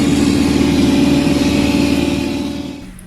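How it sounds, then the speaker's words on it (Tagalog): An Airman 390 compressor unit's engine runs loud and close with a steady low drone, then begins to wind down and fade near the end. "At tapos na tayo magserbisyo dito sa ating compressor unit na to"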